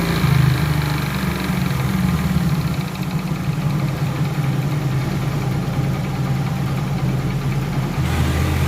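A Hero Super Splendor motorcycle idles steadily at low revs after its RPM screw has been turned down, a close, even engine drone that continues throughout with no talking.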